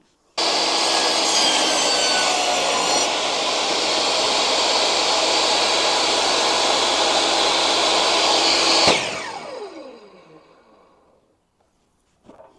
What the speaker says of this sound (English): We're just gonna push this all the way through, shut the saw off, and then we can grab our piece after the saw is shut down